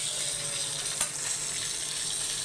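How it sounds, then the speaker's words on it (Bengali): Koi fish frying in oil, a continuous close sizzle with a brief louder crackle in the middle, no talking. "কই মাছটা দিয়ে দিলাম, যে হালকা ভেজে উঠাইয়ে নেব"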